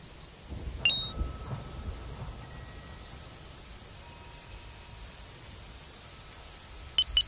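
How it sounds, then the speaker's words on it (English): Rain and a thunderstorm on a dark night: a soft, steady rain hiss sits under low distant rumbles, with a sharper burst near the start and another right at the end. "And it's raining."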